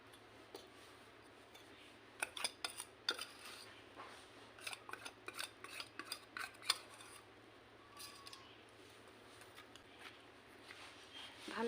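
Cooked carrot is mixed in a bowl for a village-style carrot cake batter, with soft, irregular clicks and scrapes of a utensil against the bowl coming in scattered bursts over a faint steady hum.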